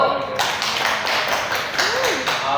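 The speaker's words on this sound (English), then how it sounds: "Give applause to Rido." Students in a classroom give a short round of applause for a classmate during a microteaching session, with steady, moderately close hand claps and a voice speaking briefly over them.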